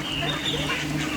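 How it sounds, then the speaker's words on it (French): A duck outdoors at Brantôme in the Dordogne, France, gives repeated nasal quacks at close range over a busy background, with faint voices nearby. "c'est le canard qui va aller manger"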